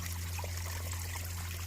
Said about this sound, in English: it's still spitting water out